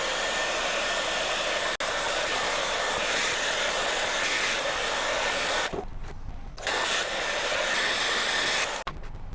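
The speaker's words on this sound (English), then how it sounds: "For this one, we need a hairdryer." A hairdryer blows hard and steady on a puddle of wet watercolour paint on a page, a loud continuous whooshing rush that cuts out briefly twice before starting again.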